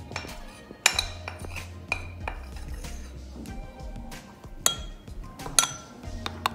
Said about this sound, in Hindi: और मैं अच्छी तरह जूस में मिक्स कर लूँगी।